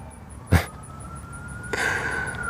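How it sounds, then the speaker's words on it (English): A distant siren wails faintly outside in New York, its tone drifting slowly, with a couple of nearby thumps and rustles in the foreground. "as these sirens are just going off in the background"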